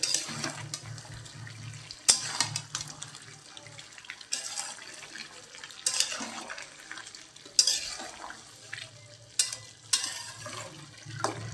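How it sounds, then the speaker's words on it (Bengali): Mutton for Bengali khashir mangsho being stirred in a pot, with repeated wet scraping and sloshing strokes and a soft sizzle underneath, steady and close with no talk. "এবার একটু নেড়ে দেবো।"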